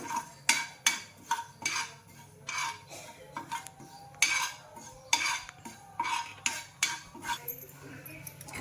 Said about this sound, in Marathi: तर अगदी नॉर्मल असं आपलं बडीशेप भाजून घेतलंय